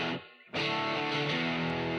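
A music track processed through the spring reverb of the Camel Strip analog channel strip plugin cuts out briefly, then returns loud, dense and distorted, with a splashy reverberant tail filling the sound.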